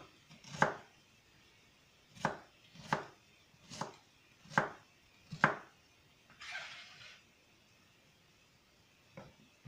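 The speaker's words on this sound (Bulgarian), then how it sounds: "да режа една глава лук" A knife chops an onion on a cutting board in about six sharp, evenly spaced strikes, then a brief scrape and one last faint tap, all close and quiet.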